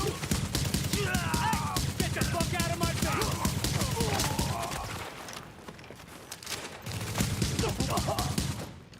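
Rapid bursts of automatic gunfire with recoil in a shooter video game, dense rattling volleys that pause briefly midway and then resume, with a voice talking faintly beneath.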